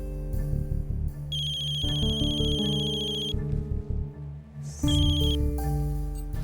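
A phone ringtone plays while an outgoing call rings through. The melodic electronic tune is loud and close, running in repeated phrases with brief pauses and no talk.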